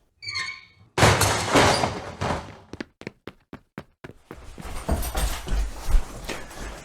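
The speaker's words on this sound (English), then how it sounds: "don't let the door slam your ass." A door bangs shut with a loud, sharp thud, followed by a series of quick clicks and knocks, then rustling handling noise as someone moves nearby.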